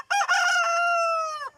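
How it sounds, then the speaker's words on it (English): A blue rooster crows once up close, a loud, clear cock-a-doodle-doo with a rising start and a long sustained final note, alone on a summer farm lawn. "Yeah, he found his voice, and the other blonde rooster that just walked by him doesn't know how to crow very well yet."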